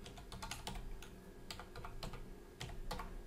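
Keys clatter on a computer keyboard in quick irregular bursts, quiet and close, as a username and password are typed into a WordPress login page.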